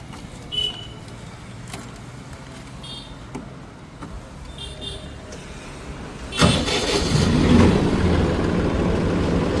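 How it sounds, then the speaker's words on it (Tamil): A Massey Ferguson 9563 CRDi 4WD tractor with a three-cylinder engine starts and settles into a steady, fairly quiet idle after some faint background noises and brief clicks. "சவுண்டு பாருங்கள், ஒரு துளி கூட சவுண்டே இல்லைங்க டிராக்டரு."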